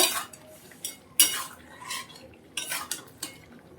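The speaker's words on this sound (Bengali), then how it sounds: "আলুগুলো প্রেসারে একটা সিটি দিয়ে নিয়েছি আর পটলগুলো তো ভাজছিলাম দিয়ে ঢেলে নিয়েছি পটলের সঙ্গে দিয়ে এই মশলা দিয়ে কষিয়ে নিচ্ছি" Pointed gourd and fried potatoes with spices are stirred in a pan, a metal spoon scraping and clinking against it in several short bursts, close and otherwise quiet.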